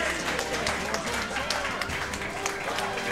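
A crowd claps and cheers steadily at a Super Smash Bros. doubles grand finals tournament. The dense applause runs throughout, with background commentary voices mixed into the noise.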